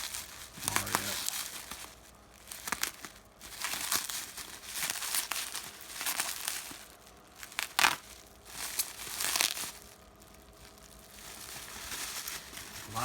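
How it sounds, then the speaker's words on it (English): Bubble wrap packing around a set of soft-grip SATA screwdrivers is crinkled and pulled away in irregular bursts of crackling and rustling, close and fairly quiet, with brief pauses between handfuls. "Lots of bubble wrap."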